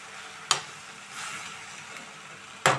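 Gongura (sorrel) leaves cooking in oil in a pan for a green chilli chutney, a soft steady sizzle broken by two sharp clanks of a spoon stirring, no voices.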